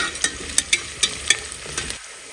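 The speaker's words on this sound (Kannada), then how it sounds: "ಈರುಳ್ಳಿ ಸ್ವಲ್ಪ ಟ್ರಾನ್ಸ್ಪರೆಂಟ್ ಕಲರ್ ಬರೋ ತನಕ ಚೆನ್ನಾಗಿ ಹುರ್ಕೊಬೇಕು" Sliced onions sizzle in a pan while a spoon stirs and scrapes them in quick, irregular strokes, the frying hiss steady underneath.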